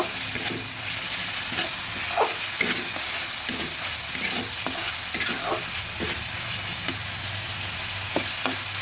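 Onions with ginger-garlic paste and spice paste frying for a Bengali boal fish curry, a steady sizzle with repeated scraping stirs of the spoon across the pan, close and continuous throughout.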